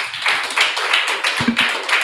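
Applause from an audience at a fireside conversation event, a brief burst of clapping that stays fairly loud and steady throughout, with a low voice briefly audible underneath.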